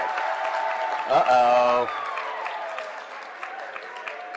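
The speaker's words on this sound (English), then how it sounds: "now we get the Bronx cheer from the other side" A basketball crowd in a high school gym gives a Bronx cheer, a short raspberry-like jeering burst rising over steady crowd murmur and applause, with a voice speaking briefly over it.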